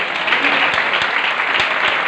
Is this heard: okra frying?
no